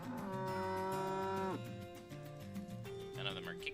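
Cows moo in a fantasy supermarket simulator video game, a long, loud, low moo followed by a second, softer moo with a brief higher bleat-like call near the end, no talk.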